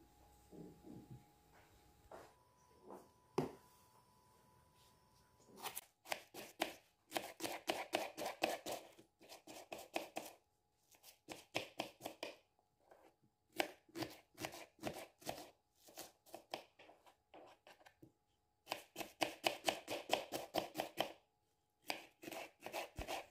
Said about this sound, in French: J'ai pris aussi un oignon, je le coupe finement.